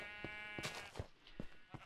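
Blocky sheep in the Minecraft video game give a series of faint bleats, about five short evenly spaced calls over a soft background.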